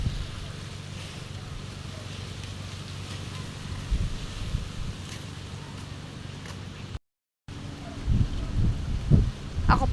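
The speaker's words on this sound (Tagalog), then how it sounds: "Malakas po ang hangin." Strong wind buffeting the microphone in a continuous low rumble beside a fishpond, with a brief dropout and gustier bursts toward the end, outdoors.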